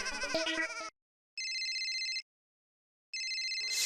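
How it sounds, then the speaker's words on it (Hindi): An electronic phone ringtone plays a short melody, then sounds two bright trilling bursts separated by pauses. "सेठ धनराज सिंघानिया जी का फोन"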